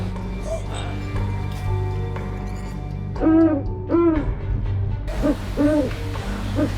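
A bence bird calls in repeated rising, hooting notes, a few separate bursts over a steady low background hum, fairly close and clear.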